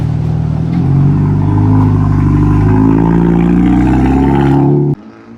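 A loud, deep exhaust on a Hyundai Elantra N tuned to 500 horsepower roars and revs steadily, rising slightly in pitch before cutting off abruptly near the end.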